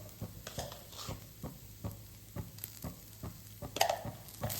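Grated plantain being gently stirred in a frying pan, soft rhythmic scraping strokes about every half second over a faint sizzle, close and quiet, no talk.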